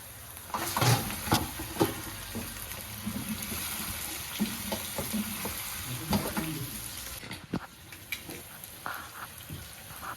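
Chicken pieces hit a pan of browned onions and fry with a steady, close sizzling hiss, broken by scattered pops and scraping stirs throughout.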